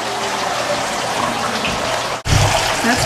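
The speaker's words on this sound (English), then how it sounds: "the water comes up into the grow bed, and then once it gets to the top, it flows back down through the siphon pump" Water flows and splashes continuously through an aquaponics grow bed and siphon in an Earthship home, a close, steady gushing that briefly cuts out and then resumes.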